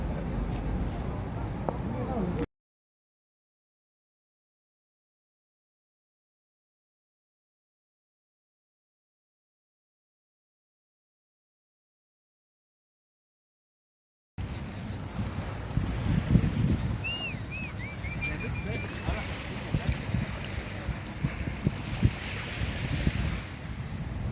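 Ocean waves at Mangaf beach, Kuwait: washing surf under heavy wind buffeting on the microphone, interrupted by a long stretch of total silence before the surf and wind return.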